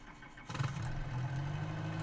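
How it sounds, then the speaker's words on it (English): A Lycoming piston engine on a Bell 47G helicopter cranks and catches, settling into a low, steady rumbling idle. "it's not a gas turbine engine, it's a Lycoming engine"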